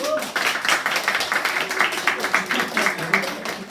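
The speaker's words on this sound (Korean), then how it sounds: "박수 한번 합시다." A church congregation claps in a quick, fairly even rhythm, many hands close by, with some voices and background music or tones mixed underneath.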